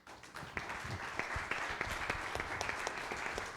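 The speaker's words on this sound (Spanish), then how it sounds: "el aplauso es para ustedes" Audience applause at a continental peace summit, a steady dense clapping from a crowd that continues throughout without voices over it.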